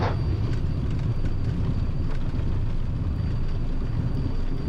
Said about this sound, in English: Takeoff, power set, achieved, 2 good engines.